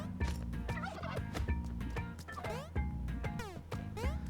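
Turkeys gobbling in the video game Spelunky 2, repeated rapid gobbles layered over busy game music and effects throughout.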